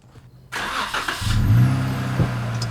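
A Jeep Wrangler fitted with an upgraded Dana 44 front axle starts up after a quiet moment, then its engine settles into a steady rumble that grows slightly, heard close by.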